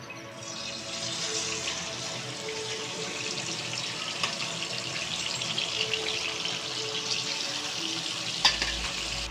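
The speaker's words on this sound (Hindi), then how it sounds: "अब हम इसको चाप को फ्राई करने के लिए रखेंगे।" Marinated beef chops fry in about a cup of hot oil, giving a steady, loud sizzle and crackle that lasts throughout, with a faint clink near the end and no talking.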